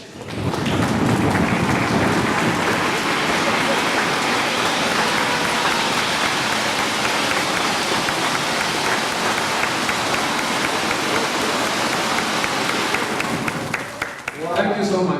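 An audience claps loudly and continuously at a malaria plan launch event, the sustained applause fading out near the end.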